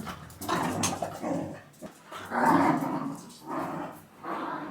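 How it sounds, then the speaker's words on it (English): Dogs playing close by, with bursts of low growls, grumbles and whines that rise and fall across a few seconds. "The dogs are back."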